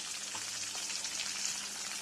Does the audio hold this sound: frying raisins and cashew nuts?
yes